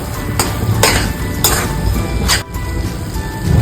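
Carrot halwa with nutmeg and cardamom powder is stirred in a pan: loud, rhythmic scraping strokes of a spoon roughly every half second over a low cooking sizzle.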